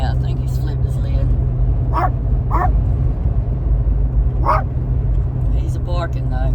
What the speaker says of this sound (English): He's just barking up in there.